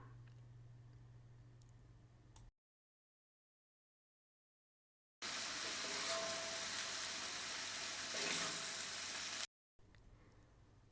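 Cooked noodles are stir-fried with vegetables and masala, a steady hissing sizzle broken by stretches of silence, quieter at the start and end and loudest in the middle.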